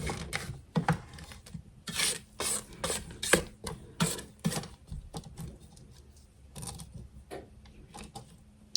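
A spatula scrapes down the sides of a mixing bowl of cherry bar batter after the eggs go in. The close, rasping strokes come in an irregular run, loud at first and then thinning out.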